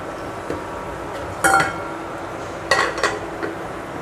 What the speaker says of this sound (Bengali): ঢাকনা দিয়ে ঢেকে দিচ্ছি